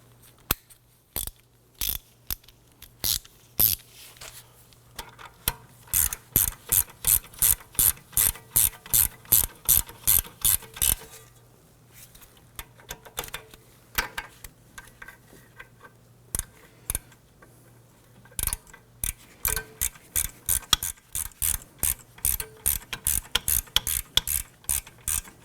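A ratchet snugging down rear wheel hub bolts on a Volvo XC90, close and clear: repeated bursts of rapid, crisp mechanical clicks in rhythmic strokes, separated by brief pauses, with no talk.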